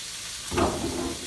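A steady loud hiss of steak searing in a hot pan, with crackling sizzle that swells briefly midway.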